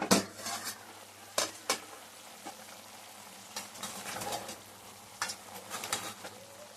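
Country chicken fries in oil while a ladle stirs it, giving a soft, close sizzle under a few scattered clinks and scrapes against the pot.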